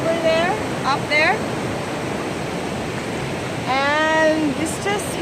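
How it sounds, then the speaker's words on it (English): A river flows beside a natural hot spring in a steady broadband rush, close and constant. Voices and excited exclamations rise above it at the start and end. "we got the river right behind us"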